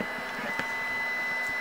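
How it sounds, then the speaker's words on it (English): A 3D printer runs in the background of an indoor room, giving a steady faint whine with soft mechanical ticks and a brief click, no speech. "you can probably hear the printer in the background"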